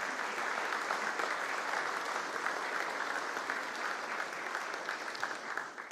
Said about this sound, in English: Would you give all of those people a round of applause?